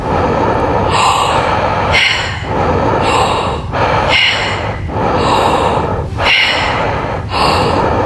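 Loud, close, deep breaths during a rebirthing breathwork session come in a regular rhythm of about one per second, each a forceful rushing inhale and exhale separated by brief gaps.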